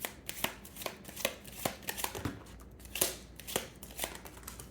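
Tarot cards are shuffled and riffled in a quiet room, giving a steady run of crisp papery flicks and taps over about five seconds, close and fairly soft, with no voices.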